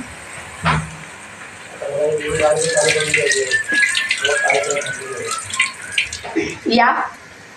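Water splashes and runs steadily for several seconds over poha being rinsed, loud and close, with a brief voice near the start and again toward the end.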